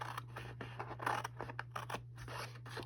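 Papercraft box being cut along a line and then mitered, a close, dry snipping and scraping under a steady low hum, with short cuts repeating irregularly through the stretch.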